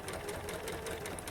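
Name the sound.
sewing machine stitching a quilt block seam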